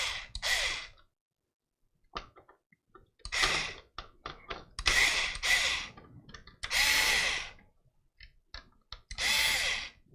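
A power screwdriver turning the standoff screws of a Corsair iCUE H100i Elite LCD liquid CPU cooler in an AMD PC, set to full clutch: bursts of whirring, several short and a few longer, separated by quiet pauses.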